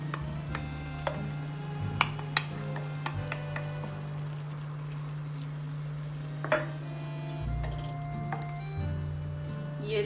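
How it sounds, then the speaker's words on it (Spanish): Crushed tomato goes into a hot pan for a stewed sauce, giving a steady close sizzle and frying hiss with occasional sharp clicks and stirring knocks, with no talk. "ahora voy a agregar el tomate triturado,"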